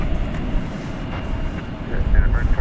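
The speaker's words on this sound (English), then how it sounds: "we've got a United Airbus A319 Flight 2330" A United Airbus A319 airliner from 1998 at DFW Airport at night, a steady broadband jet rumble with strong low-end wind buffeting, holding level and swelling slightly louder toward the end.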